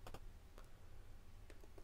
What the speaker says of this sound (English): There's a typewriter here.